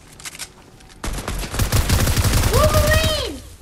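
Rapid gunfire in the Fortnite video game, a dense burst of shots that swells and stays loud, with a close voice speaking over it.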